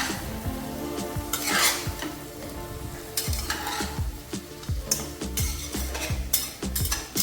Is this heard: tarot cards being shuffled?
no